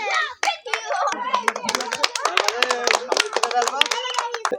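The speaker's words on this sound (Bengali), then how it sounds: "সকালে জোরে হাততালি।" Hand clapping breaks out in a group as a prize is handed over, sharp irregular claps mixed with children's and adults' voices talking and calling over them.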